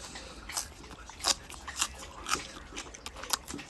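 Crunchy bites into raw leek sprinkled with salt, several sharp close crunches at an irregular chewing rhythm over about four seconds, with no talking.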